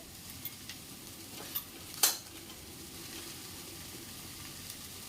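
Spices such as turmeric, coriander and red chilli powder being stirred into yogurt in a bowl make faint, soft scraping strokes with a few brief spoon clinks, one sharper clack standing out.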